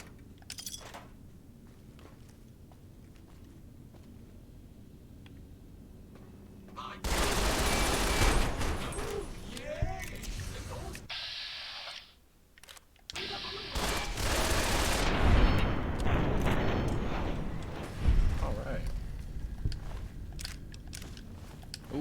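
Varmint rifle gunfire in a video game, with heavy bursts of shots that arrive in two dense loud stretches after a quieter opening, separated by a brief lull.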